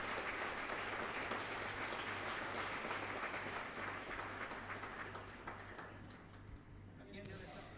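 Faint congregation applause during a church sermon, a soft continuous patter of clapping that eases slightly toward the end, with a voice heard over it.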